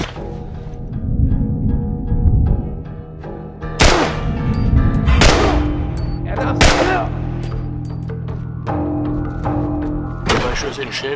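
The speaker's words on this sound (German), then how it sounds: "Zwei Schüsse in den Schädel" Gunfire from The Last of Us gameplay: several sharp, loud broadband shots at irregular intervals over a dense bed of game music and ambience, with a final burst near the end.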